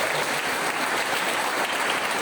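A church congregation at a Baptist evening service claps together in a brief, even burst of applause, steady and fairly loud for about two seconds with no talking.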